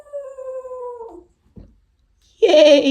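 A dog named Sven lets out a long wavering howl indoors, then a brief soft sound and a pause before a louder, higher howl starts up again, close and clear with no talking.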